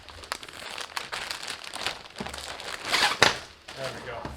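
Plastic packaging on a DTech Flatpack is crinkled and torn open in a series of crackling rustles and sharp rips, close up, with a person speaking briefly amid the handling.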